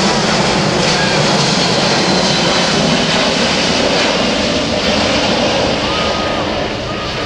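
A C-17 Globemaster III military jet transport roars loudly and steadily as it performs a tight 360-degree turn on the ground at an air force base airshow, its broad engine rumble and whine continuous throughout with no talk.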